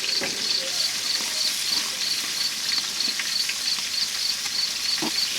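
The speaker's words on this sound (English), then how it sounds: "Let that sauce start cooking in. While that's cooking in, we're going to sauce this side." Rabbit pieces sizzle and fry in sauce, a steady crackling hiss for about five seconds with faint scrapes from tongs, fairly quiet and continuous, no talk.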